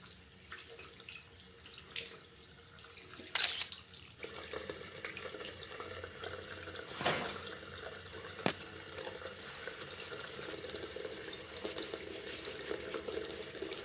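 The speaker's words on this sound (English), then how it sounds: "Rinse your hands and dry thoroughly." Tap water runs steadily into a sink as hands are rinsed in a food business setting, with a few brief louder splashes and knocks over the continuous flow.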